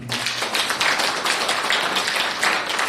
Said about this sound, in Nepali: हामी त्यो परमेश्वरलाई ताली बजाएर धन्यवाद दिनुहुन्छ।